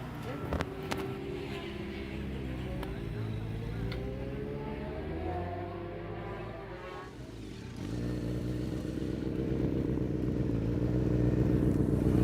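A dirt bike ridden on a practice track with the engine droning steadily, rising in pitch and loudness toward the end, while people talk briefly.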